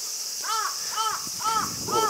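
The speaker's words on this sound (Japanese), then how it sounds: "おっ、カラスだ。" A crow caws four times at an even pace, fairly close and clear, over a steady high-pitched hiss of insects or background noise, in a persimmon orchard in Japan.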